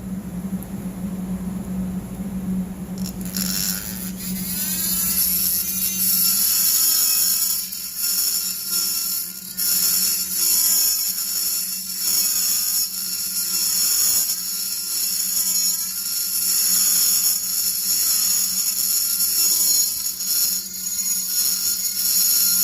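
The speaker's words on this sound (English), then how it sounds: "I try to grind some of the ports out" A high-speed rotary grinder works the ports of a Husqvarna 51 chainsaw cylinder, a loud whining drone that rises in pitch and then wavers as the bit bites the metal, sustained and close.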